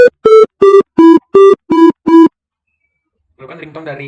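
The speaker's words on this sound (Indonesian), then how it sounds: "maka dibuatlah gitu ringtone sederhananya itu" A simple synthesized ringtone melody generated in MATLAB: seven short, evenly spaced electronic beeps, followed by a brief stretch of quiet speech.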